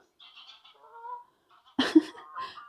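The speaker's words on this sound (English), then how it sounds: "there was a load of geese, I think, flying over" Flock of geese honking as they fly overhead outdoors, scattered distant calls building to a louder burst of overlapping honks, with no talk.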